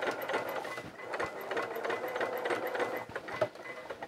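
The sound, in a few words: sewing machine sewing coverall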